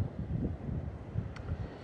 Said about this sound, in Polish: I straszny wicher się zbiera powoli.